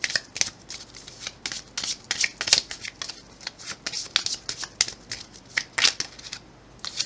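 A deck of tarot cards being shuffled over and over, quick crisp riffling bursts with the cards occasionally catching, close and fairly loud and mostly alone.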